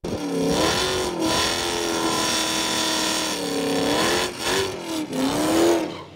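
A Toyota Supra fitted with a Hellcat V8 engine revs loudly on a track, its deep engine note rising and falling in pitch over several throttle blips.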